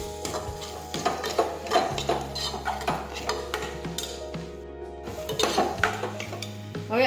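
Onion, potato and tomato curry with garlic chutney and turmeric sautés in a pan, a steady run of metal spoon scrapes, clinks and stirring taps against the cookware over a low kitchen hum.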